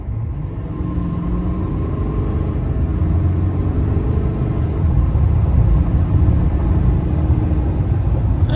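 A big pickup truck accelerates hard at full throttle, heard from inside as a steady low engine drone and road rumble that builds slightly in loudness midway, with no talking.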